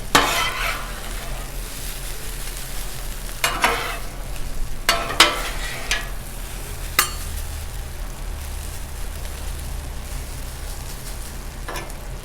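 Breakfast burrito filling sizzles steadily on a Blackstone griddle while a spatula scrapes and stirs it in several sharp bursts, close and fairly loud, with a constant low hum underneath.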